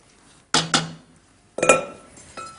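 A metal utensil clinks against a pot while stirring cream taken off the heat, two sharp clanks followed by a few more ringing knocks, close and clear with no talking.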